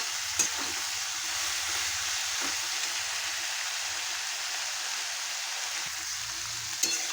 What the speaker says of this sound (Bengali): উচ্ছে আর পটল আমার প্রায় ভাজা হয়ে এসছে